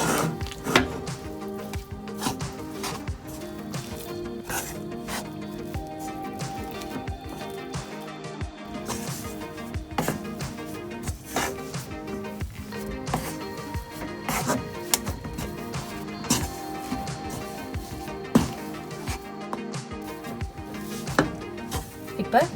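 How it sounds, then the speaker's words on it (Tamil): Dry fruit paste mixed with ground nut powder in a pan for dry fruit laddu gives continuous close scraping and knocking of a spatula against the pan, busy and uneven, with no speech. "இப்போ இதோட நம்ம அரைச்சி எடுத்து வச்சுருக்க நட்ஸ் பவுடரையும் சேர்த்து மிக்ஸ் பண்ணணும்"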